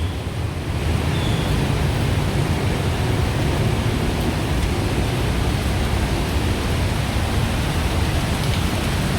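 Heavy thunderstorm rain pours down on flooded Sukhumvit Road in Bangkok, a dense, constant roar of water close by with no pauses, and no voices.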